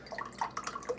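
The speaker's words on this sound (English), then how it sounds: "So we got to pour 2/3 of a cup right here." Milk being poured into a measuring cup for a semi-homemade pumpkin pie, making a close, quiet trickle with small bright gurgles and drips over about a second.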